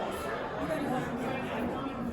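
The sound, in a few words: crowd chatter at Vegan Social Super Club dinner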